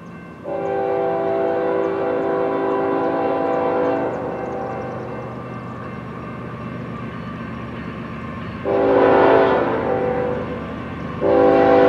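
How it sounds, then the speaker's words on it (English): A Norfolk Southern intermodal freight train rumbles past steadily in Berryville, Virginia, while its horn blares in long, loud blasts, the last ones rising sharply in volume. "We got a Norfolk Southern train here in Berryville, Virginia."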